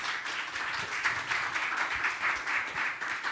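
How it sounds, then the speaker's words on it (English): Audience applause at a startup accelerator graduation in Bilbao, a fairly quiet but continuous patter of many hands clapping, rippling evenly with no talk. "Give him some applause."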